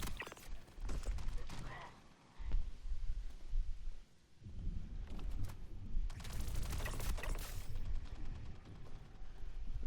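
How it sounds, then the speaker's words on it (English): Gunfire in a video game, rapid bursts of shots and mechanical clatter at moderate distance, sounding in irregular volleys alongside other game noise. "Somebody's shooting back over yonder."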